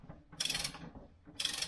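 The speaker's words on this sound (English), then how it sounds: "Now I'll torque these things down" Ratchet clicking in two quick bursts while torquing down bolts on a Honda 400EX ATV, loud and close, with a short pause between the runs of clicks and no talk.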